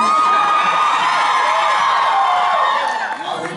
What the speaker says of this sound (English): It's a loud crowd for this early.